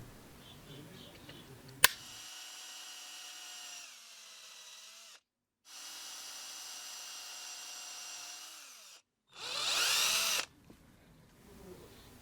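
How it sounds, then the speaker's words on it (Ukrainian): A small power drill whines in several bursts separated by pauses while boring holes in coins, with a sharp click at the start and a brief harsher grinding burst near the end. "Ось таким чином в двох монетках треба просверлити отвори"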